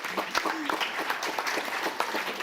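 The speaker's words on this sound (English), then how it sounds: "I think that deserves a round of applause." An audience at an international human rights conference applauds in a steady burst of clapping that fills the short stretch, with a voice faintly audible beneath it.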